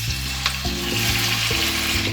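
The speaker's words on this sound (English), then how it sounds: "we're going to saute these off for about 5 minutes or until soft" Aromatics sizzle and crackle steadily in hot frying oil in a pan, a close, continuous sputter with the occasional stir, ahead of making crispy fried chicken.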